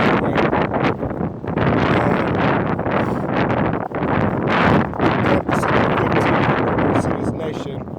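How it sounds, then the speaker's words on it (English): Strong outdoor wind buffeting the microphone in a loud, steady roaring rush with gusts, while a person talks over it. "I'm so sorry, guys, with this wind."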